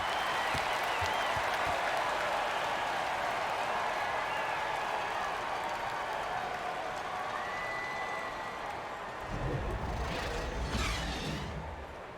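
Crowd applause and cheering in the NBA 2K17 basketball video game, a dense, steady roar of clapping that holds loud throughout, swelling slightly near the end.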